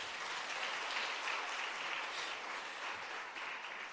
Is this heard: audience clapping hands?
yes